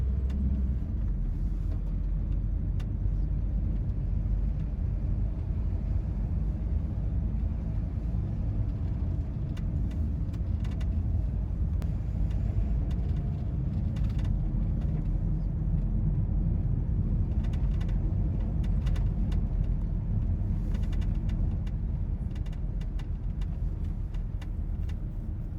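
A car drives down a road on the east coast of South Harris, a steady low rumbling engine and road noise heard from inside, continuous and moderately loud throughout.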